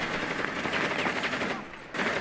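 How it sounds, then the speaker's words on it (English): Sustained automatic gunfire in a Rainbow Six Siege Terrorist Hunt match, a dense continuous rattle of shots that briefly drops away before resuming near the end. "you're being shot at, I think"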